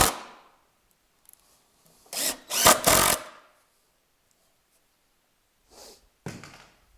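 A drill drives 1.25-inch screws into 5/8-inch plywood, countersinking slightly, in two short whirring bursts with a pause between, a brief later burst, and quiet gaps, close and fairly loud.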